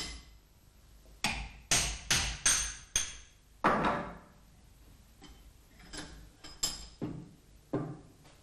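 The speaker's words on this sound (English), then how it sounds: "push the yoke down by applying a few light hammer blows" A few light hammer blows drive a universal-joint yoke onto clamped bearing bushes on a Walterscheid clutch assembly, giving about ten sharp, close metallic taps in two irregular bursts with quiet pauses and no talking.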